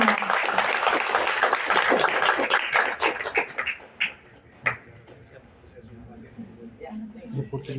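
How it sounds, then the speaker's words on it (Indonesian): A festival audience at a Telkomcel Connect music and creativity celebration breaks into applause mixed with voices, strong at first then thinning to scattered claps and crowd chatter. "tepuk tangan untuk kita semua"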